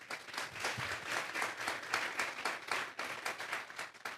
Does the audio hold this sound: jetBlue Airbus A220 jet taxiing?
no